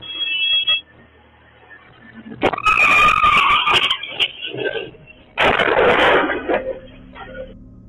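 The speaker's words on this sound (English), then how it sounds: "a white SUV traveling too fast and out of shape pirouettes into view, slaps the median" A white SUV travelling too fast skids out of control, spins and slams into a median, then cartwheels across a bus's path; loud bursts of tyre screech and crashing impact come in two surges separated by a quieter stretch.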